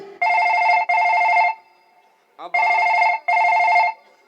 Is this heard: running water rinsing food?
no